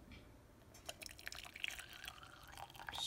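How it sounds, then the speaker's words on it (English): Chai is poured from a spout through a fine tea strainer into a teacup, giving a faint, close trickle with soft dribbling splashes that build slightly toward the end. "We're gonna have our fine tea strainer over here. And then we're just gonna pour it."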